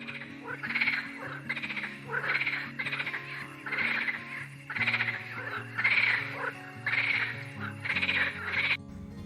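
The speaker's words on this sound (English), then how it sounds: "Frog" Frogs croak in a steady pulsing rhythm, about a dozen rasping calls in regular bursts, moderately loud over a low droning background with no voices.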